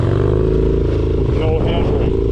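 Harley-Davidson Dyna engine held in a stand-up wheelie, a loud, steady, close low-pitched rumble with a constant throttle drone and wind noise, a voice talking over it.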